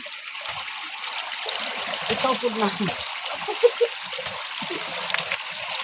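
Water trickles and gurgles as it drains, a steady running flow with small splashes, while a person speaks briefly nearby.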